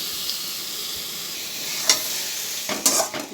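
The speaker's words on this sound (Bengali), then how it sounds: "ভালো করে নাড়ানাড়ি করে কষিয়ে" Chili powder, tomato ketchup, onion and ginger-garlic paste are stirred in a hot pan for an egg omelette curry. A soft hiss runs throughout, broken by a few sharper scraping strokes near the end, close up and without speech.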